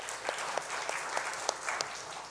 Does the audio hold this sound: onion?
no